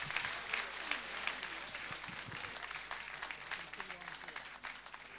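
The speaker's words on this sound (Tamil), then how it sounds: "அவங்களுக்கு எல்லாரும் பலத்த கரவொலி எழுப்பி நன்றியை தெரிவிப்போம்" Audience applause for a singer at a stage tribute event, a steady dense wash of clapping from a large crowd throughout, with a voice speaking faintly underneath.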